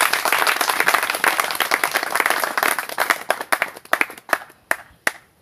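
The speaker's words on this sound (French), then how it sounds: "Applaudissons pour notre Seigneur Jésus." Church congregation clapping for the Lord at a French-speaking worship service: a full, close burst of many hands that loosens into scattered, sharper individual claps before dying away.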